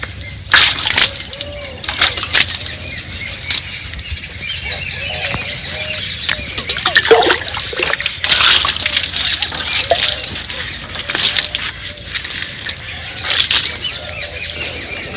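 Splashing and gushing hose water spraying against a motorbike in uneven bursts, loud and close, with occasional dripping.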